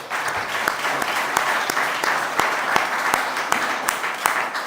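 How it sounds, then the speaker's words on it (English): A large audience applauds panelists at a youth climate leadership event, a steady dense wash of clapping with sharp individual claps standing out, sustained at even loudness throughout. "Can I just have one more big round of applause for all our panelists there?"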